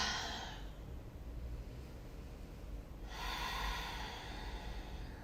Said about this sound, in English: deeply breathe in and deeply breathe out